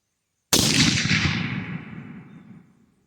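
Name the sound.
gunshot from a .270 Win Weatherby Vanguard rifle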